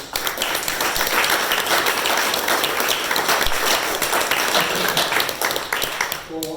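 A conference audience claps steadily and loudly for an organiser, a dense sustained patter filling the room with no break until it thins at the very end.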